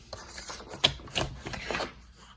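Paper trimmer slicing a corner off a spiral-bound notebook cover: a brief close rasping cut with a sharp click, followed by a few soft scraping rubs.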